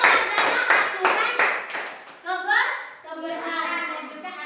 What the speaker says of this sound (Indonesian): tepuk tangan untuk Aura